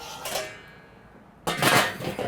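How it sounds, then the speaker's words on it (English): A metal barbecue grill lid is set back down over a marinated duck, giving a short clank and scrape, then a pause and a louder metallic clatter close by, with no talk. "Put my lid back on."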